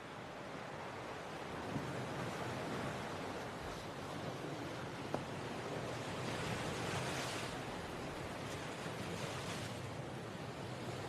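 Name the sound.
strong wind at a beach in a movie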